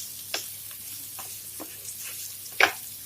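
Gram flour roasts in a pan with capsicum, giving a soft continuous sizzle broken by a few sharp scraping stirs, one louder near the end, with no voices.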